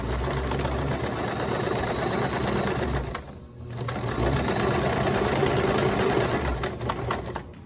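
Fabric patchwork pieces for a cushion are stitched right sides together on a sewing machine, giving a loud, steady rapid whirring clatter that pauses briefly near the middle and then runs on.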